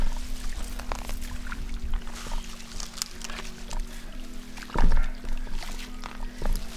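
Irrigation water pours and gushes steadily around the base of a Wambugu apple tree, with a faint low hum and brief splashy surges, close and fairly loud throughout.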